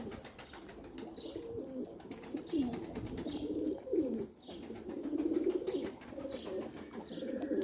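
Pigeons cooing in a loft, including Arab, Çakmaklı and grey squabs, with several overlapping throaty coos rolling continuously and close over a light rustling background.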